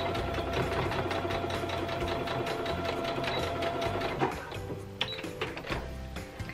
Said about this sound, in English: just sew straight across